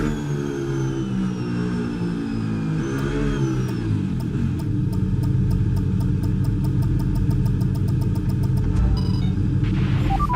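F1 cars form up on the grid in a racing video game, their engines giving a steady, loud mid-pitched rumble with rising and falling revs, and a rapid clicking tick running underneath through the second half.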